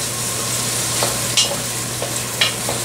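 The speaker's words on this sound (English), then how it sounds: "we're just going to stir and kind of crank up the heat a bit so the luncheon meat will cook more" Luncheon meat fries in a pot as it is stirred for a carbonara-style pasta, a soft steady sizzle punctuated by a few sharp metallic clinks of the utensil against the pot, with no talking.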